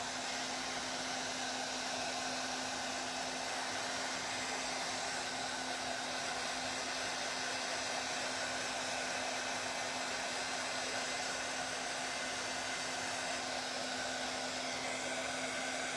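A hair dryer blows warm air to dry glue on a Dollar Tree pizza pan Christmas ornament, a steady unbroken whir with a constant motor hum that stays even and moderately quiet throughout, with no speech.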